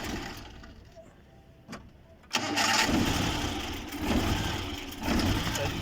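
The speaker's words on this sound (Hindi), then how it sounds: "स्टार्ट करें जी गाड़ी" A Suzuki Ravi pickup's engine cranks and catches after a brief hush, then settles into a rough, uneven idle with surging pulses, recorded close in a workshop while its ignition wires are being pulled.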